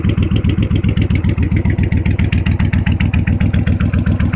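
A motorcycle engine idles loud and close after its stator and voltage regulator were replaced, a steady, even thumping pulse that keeps running without a break.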